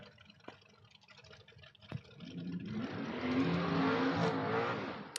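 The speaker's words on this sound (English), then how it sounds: "I love me a good dragster burnout in a door car" A drag-racing 1991 Chevrolet S10 door car sits quiet with a couple of sharp pops, then its engine roars up into a loud, sustained revving burnout that swells and holds before easing off, close by and without talk.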